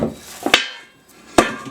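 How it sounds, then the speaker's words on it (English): Homemade Amish bread dough knocked down with a couple of sharp thumps, one closely following another, then a single firm slap a moment later, near and fairly loud against a quiet kitchen background. "we're going to take our dough and we're going to knock it down"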